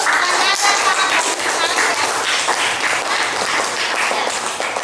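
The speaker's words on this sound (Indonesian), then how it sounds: "tepuk tangan buat Roman dulu" Classroom of fourth-grade students clapping for a classmate during a science lesson, a dense, steady patter of many small hands lasting throughout, fairly close and loud, with no voices standing out.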